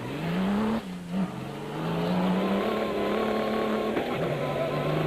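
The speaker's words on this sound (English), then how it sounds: "Leonid Novitsky, another early riser, and the second fastest man in a BMW, behind of course Peter Hansel, his teammate" BMW rally car racing on a special stage of the Baja Spain 2010 cross-country rally, its engine droning loud and close and rising steadily in pitch, with a brief dip near the one-second mark and another drop around four seconds.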